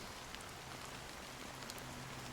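Rain falling in the Honkai Star Rail video game, a steady soft hiss of drops on surfaces with scattered brighter patters, faint and continuous with a low tonal hum underneath.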